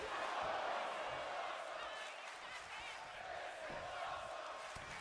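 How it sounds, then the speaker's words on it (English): A wrestling video game's crowd chants and roars as a steady, broad wash of noise throughout, fairly distant and continuous. "Crowd already chanting, "This is awesome.""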